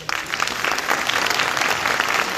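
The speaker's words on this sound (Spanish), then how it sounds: "un aplauso para nuestros..." Audience applause at the close of a panel discussion during a company anniversary event, a steady dense wash of many hands clapping, fairly close and sustained throughout.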